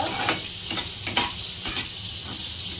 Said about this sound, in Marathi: हा मसाला छान आपण तेलामध्ये दोडक्याला लागेपर्यंत परतून घ्यायचा आहे अर्धा मिनिट।